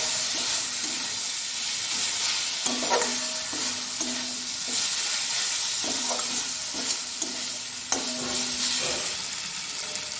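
Spoon scraping and stirring through sizzling ginger, onion, tomato and garlic as turmeric powder is mixed in, repeated rhythmic scrapes over a steady loud frying hiss.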